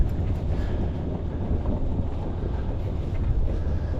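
Wind rushes steadily over a sailing boat on the water near Gosport, a constant low, blustery rumble with no voices.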